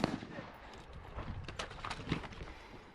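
Gunshots on steel targets at a multi-gun shooting stage come as a quick string of faint, distant pops, the cracks scattered irregularly over a steady background.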